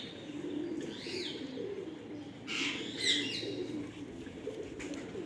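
Pet pigeons in a keeper's loft give soft, faint coos and short chirps in a few separate bursts over a low, steady background murmur.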